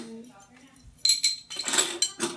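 Metal medals and ribbons clink and rattle as they are rummaged through, a few sharp jingling bursts close by, with a faint voice at the start.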